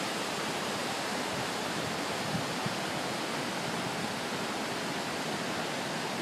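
Steady, dense roar of falling water, broadband and unbroken throughout, like a waterfall by a dam heard up close with no voices, in Rockford, Michigan.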